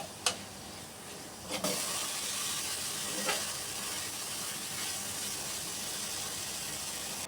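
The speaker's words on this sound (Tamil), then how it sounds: "அதனால் நான் கொஞ்சம் நேரத்துக்கு நல்லா வதக்கி விடுறேன்." Masala with chili powder sautéing in a pan, a steady close sizzle and hiss running throughout, with a few brief sharp clinks of a spoon near the start and middle.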